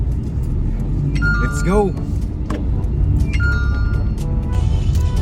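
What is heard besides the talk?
noisy delivery vehicle engine while driving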